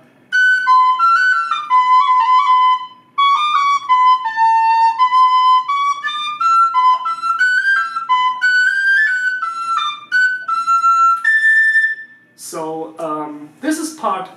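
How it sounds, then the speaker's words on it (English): A tin whistle plays the first part of a folk-metal tune, a lively run of clear, bright notes close up, briefly pausing once, then ending with a short burst of something else. "This is part A of the melody"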